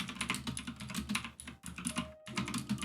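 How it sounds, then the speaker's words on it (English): Rapid clattering keystrokes on a computer keyboard, steady and close, with brief pauses between bursts and no talking. "I'm saying what I'm typing out loud."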